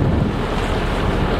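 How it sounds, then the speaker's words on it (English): A steady breeze rushes over open water aboard a sailing boat heading to a race start, a dense continuous whoosh of wind against the microphone mixed with wave wash. "Got a nice breeze out here on the water"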